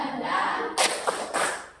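A group does a tepuk semangat rhythmic clapping routine, with a few quick, crisp claps and thuds in a short pattern over a low room murmur.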